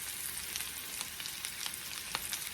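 Seasoned meat fries in butter in a pan on a home stove, a steady close sizzle with small crackles and pops and no talk.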